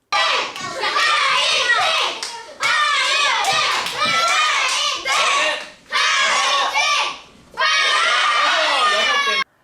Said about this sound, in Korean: 상대가 잘하면 박수치고 응원을 해줍니다